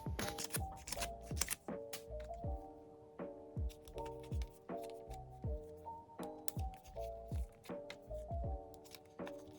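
Photocards are handled and slid into a binder: close, quiet flicks and plastic rustles in quick uneven bursts, each card snapping softly against the sleeve.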